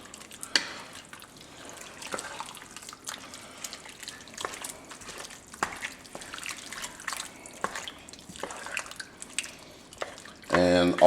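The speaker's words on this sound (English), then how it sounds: "we're going to give this a good mix" A spoon stirs tomato paste into thick homemade beef chili in a pot, giving a run of wet squelching strokes and light scrapes, followed by a louder clatter at the end, with no talking.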